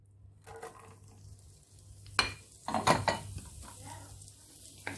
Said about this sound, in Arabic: والصدر ديال الدجاج غادي نصهدوه في مقله واحده اخرى مع شويه د الملح وشويه د الابزار